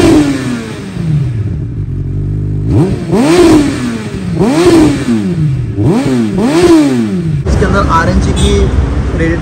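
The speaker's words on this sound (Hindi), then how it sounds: "फाइनली एग्जॉस्ट लग चुका है और बहुत ही प्यारा साउंड आने वाला है बाइक का, तो आपको एक बारी बाइक की आवाज़ सुनाते हैं।" A third-generation Suzuki Hayabusa fitted with a new aftermarket exhaust is revved loudly and close up, with four sharp rising-and-falling blips over a throaty idle, then it settles back down.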